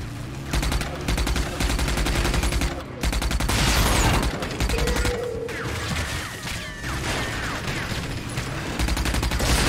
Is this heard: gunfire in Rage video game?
yes